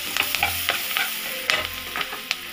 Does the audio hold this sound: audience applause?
no